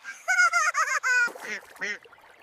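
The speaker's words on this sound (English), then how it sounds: "Look, little brother, the ducks are hungry." A short series of loud nasal honks and quacks, several calls in quick succession from close by, sounding like ducks or geese.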